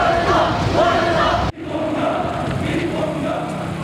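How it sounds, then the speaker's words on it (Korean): Crowd of protesters at the Busan Catholic Center in 1987 chanting against the military dictatorship, a dense roar of many voices that cuts off abruptly partway and then continues as a softer, more distant crowd murmur. "군사 독재 정권 타도를 외치는 가톨릭 센터 농성대의 목소리가 100만 시민의 함성으로 이어졌습니다."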